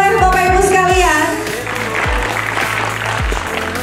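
Audience applause at a ceremony where plaques are handed over, sustained and loud throughout, mixed with steady music that has a thumping beat underneath.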